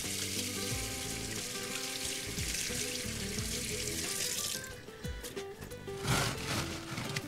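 Tap water runs steadily into a kitchen sink while hands are washed, a continuous close splashing hiss that briefly turns more irregular and splashy toward the end, with faint music in the background.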